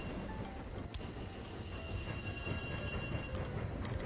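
A small train rolls along rails in the railway management game Tiny Rails, a soft steady rumble with faint rhythmic clatter and thin high tones running continuously and quietly throughout.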